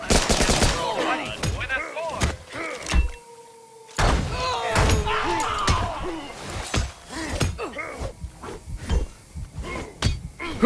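Rifle gunfire in a video game, rapid cracking shots and clattering bursts scattered through the clip amid game effects and mechanical thunks, fairly loud and close.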